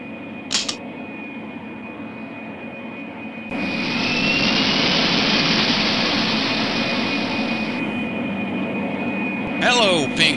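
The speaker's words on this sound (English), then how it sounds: "We're next on the runway to take off." A jet airplane in the 1995 video game Pink Panther: Passport to Peril roars into a loud, steady takeoff after a quieter engine idle. The roar holds for several seconds, then drops back to a low rumble, with brief voice-like blips at either end.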